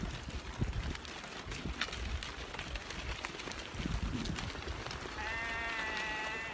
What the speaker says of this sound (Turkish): dağdan gelen koyun sürüsü